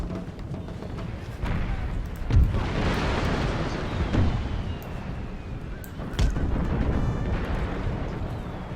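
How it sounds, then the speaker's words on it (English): Exploding artillery shot in Imperial Splendour, a Napoleonic-era strategy game, with deep booms landing among a constant roar of battle and gunfire, several heavy impacts spread through the clip, loud and dense. "And that is our exploding shot, my friends. Just falling down upon the enemy."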